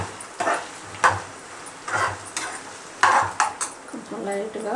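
Garlic paste frying in oil in a pan while a spoon stirs it, with regular metallic scrapes and clinks about once a second over a steady low sizzle, close and fairly loud.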